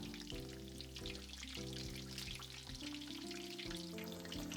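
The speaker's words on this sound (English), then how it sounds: "Deep fry them for about 90 seconds." Pork cutlets deep frying in hot oil, a dense, continuous bubbling sizzle that stays loud and even throughout, with a faint tonal hum in the background.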